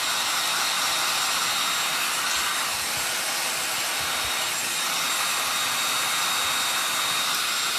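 A loud handheld heating tool blows a steady, airy roar while drying chalk paste, holding one level rush throughout with no voices.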